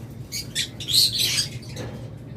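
Pet lovebirds, cockatiels and budgies kept as breeding pairs give a few quick, high chirps and squawks in short bursts, fairly close, over a steady low room hum.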